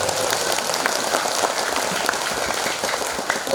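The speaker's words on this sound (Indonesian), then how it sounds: "Tepuk tangan untuk beliau." Audience applause at an Indonesian sholawat and religious gathering, a dense, steady wash of many hands clapping that holds evenly throughout with no voices above it.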